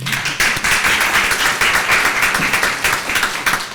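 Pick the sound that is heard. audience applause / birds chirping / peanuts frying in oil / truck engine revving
audience applause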